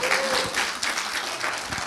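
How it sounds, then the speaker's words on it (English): A church congregation gives welcoming applause for Pastor Jerry Keeling, a full, continuous roar of clapping filling the room, with a faint tonal hum beneath at the start. "So please give Jerry a welcome applause."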